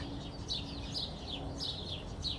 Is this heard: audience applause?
no